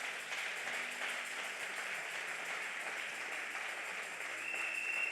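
Church congregation applauding, a steady wash of clapping that holds evenly from start to finish with no voices standing out.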